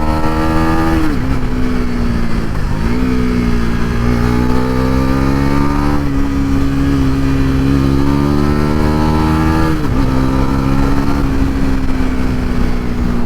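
A Bajaj Pulsar NS400 motorcycle engine drones loud and close while riding, its pitch rising and dipping with throttle changes through the ride.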